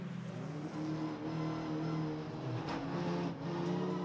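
TCR touring race cars roar past at high revs during a circuit race, wheel-to-wheel with brief contact between them, engines droning steadily and fairly loud throughout.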